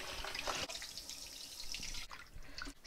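Tap water runs steadily into a kitchen sink while raw chicken wings are rinsed, a close, continuous splashing with small shifts as the meat is moved under the stream.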